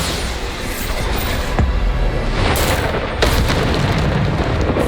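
Bombarda spell explosions in the Hogwarts Legacy video game, a few heavy booming blasts bursting out of a dense, loud, continuous roar of combat noise.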